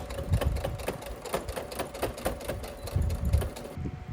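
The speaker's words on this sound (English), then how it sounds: "I was sewing a straight line about 3 inches down from the corner of the triangle" A sewing machine stitches a straight line across the corner of a quilted tote bag, a rapid even mechanical chatter with a steady hum beneath, close and loud, with no talking.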